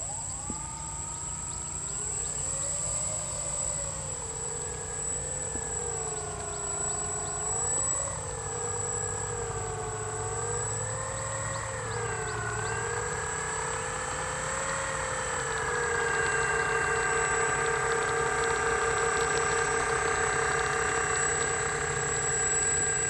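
Dynam E-2C Hawkeye twin-engine electric RC model warbird in a demo flight, a continuous whining motor drone that rises and falls in pitch as the plane passes and turns, steady and fairly loud throughout.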